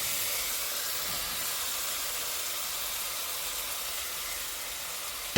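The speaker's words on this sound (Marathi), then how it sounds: "आपण जो कोबी आहे चिरलेला तो कोबी आपण आता ॲड करूया" Chopped cabbage and turmeric go into a hot cooking pan, giving a loud, steady sizzling hiss that holds at an even level throughout, with a brief clink at the very end.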